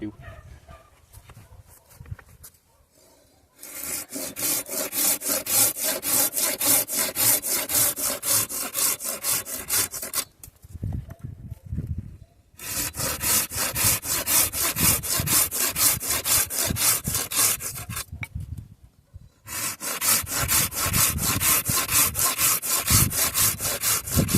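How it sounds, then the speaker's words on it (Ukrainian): Three long stretches of rhythmic hand sawing through a thin 30 mm wooden branch, fast back-and-forth strokes, close and steady, separated by short pauses with some voice. "Провіримо пилки на м'якість пиляння на тонких гілках"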